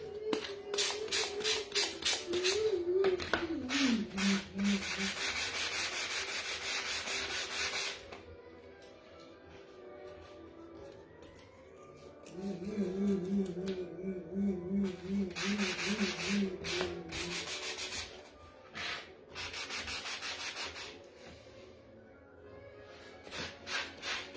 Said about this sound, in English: So let's take a sanding block.